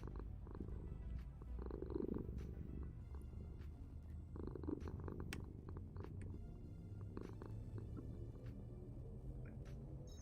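A cat purrs in a low, steady rhythmic rumble close to the microphone, continuous and fairly quiet, with a few faint clicks scattered over it.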